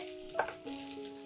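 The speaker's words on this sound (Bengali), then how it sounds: "তো দেখো পনিরগুলো ভাজা হচ্ছে" Soft sizzling of papaya-based paneer pieces frying in oil, with a brief scrape or stir partway through, close and fairly quiet.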